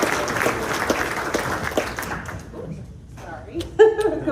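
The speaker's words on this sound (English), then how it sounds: "Let's give it a round of applause." Audience applause at a Corona Chamber of Commerce morning event, clapping steadily for the first two seconds, then thinning out into scattered claps and room noise.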